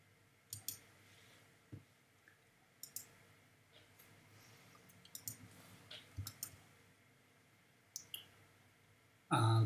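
Computer mouse clicking while drawing in Fusion 360 CAD software, with sparse, sharp clicks at irregular intervals over a quiet room background.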